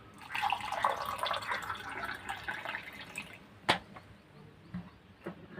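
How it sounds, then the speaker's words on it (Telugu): Water splashing into a glass for a few seconds, then tapering into a few scattered drips and light clicks. "సో ఎందు ఈ గ్లాస్ నిండా వాటర్ పోసుకోండి"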